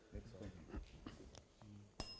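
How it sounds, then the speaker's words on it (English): A single bright bell rings out at the close of a televised high school quiz match between Manning's School and Vere Technical High, sounding sharply after a stretch of speech. "that bell signifies the end of the final challenge"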